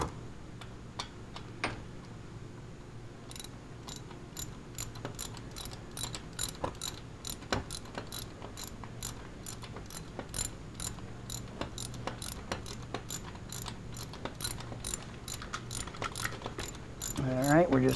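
A bolt being loosened on a Harley Davidson motorcycle engine block during an oil change, a steady run of quick metallic ratchet clicks close by, repeating for the whole stretch with no talk.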